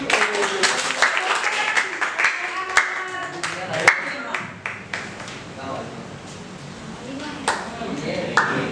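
Clapping for a participant's answer during a teachers' training session on poetry, scattered hand claps of moderate loudness mixed with talk in the room.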